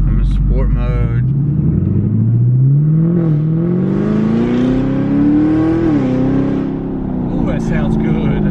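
A Camaro with a Corsa Extreme exhaust in sport mode revs loudly up close: the engine note climbs steadily in one long rev, peaks, then drops back to a burbling idle.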